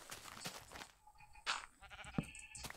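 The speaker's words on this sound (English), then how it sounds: "Oh, it's a sheep." A sheep in the video game Dualcraft Legends bleats a couple of times, short wavering calls over quiet game ambience with faint background sounds.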